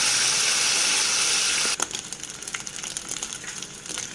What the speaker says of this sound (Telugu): ఎక్కిన తర్వాత శుభ్రంగా క్లీన్ చేసి పెట్టుకున్న నెత్తల్ని ఆయిల్లో వేసుకొని వేయించుకోవాలి.